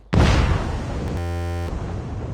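A sudden loud grenade explosion in Call of Duty Mobile bursts out and rumbles on, followed by a buzzy electronic tone and lingering low noise.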